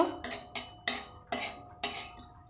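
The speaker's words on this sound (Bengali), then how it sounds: "তো কালো জিরা দিয়ে আমি সুন্দর করে নেড়ে নেব।" Black cumin seeds frying in a pan are stirred with a metal utensil, making six sharp scraping clinks at a steady, unhurried rhythm over a faint background sizzle.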